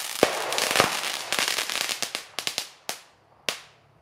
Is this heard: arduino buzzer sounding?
no